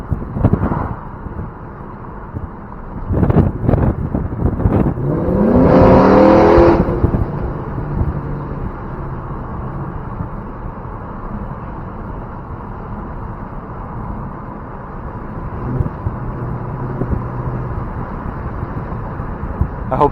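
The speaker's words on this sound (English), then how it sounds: "We're doing exhaust note videos" A Dodge Charger with a Corsa exhaust revs sharply once, its exhaust rising and falling in a loud roar, then settles into a steady idle rumble with faint wind noise.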